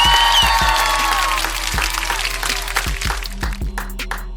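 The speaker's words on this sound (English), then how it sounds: "I'm gonna give them folks a round of applause for that one," Applause sound effect on a Dallas Cowboys sports podcast, a dense wash of clapping hands from a crowd that runs steadily throughout, with some louder individual claps toward the end.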